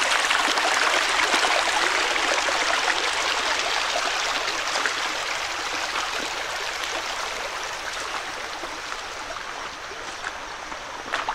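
Creek water rushing and trickling along a creek bed outdoors, a loud continuous broadband flow, close by and steady, with no voices.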